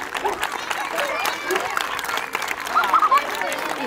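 Spectators at an outdoor dog exhibition clap together, a moderate, even round of applause with voices mixed in and a brief cheer rising toward the end.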